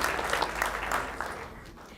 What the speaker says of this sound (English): Let's give a round of applause for Gala.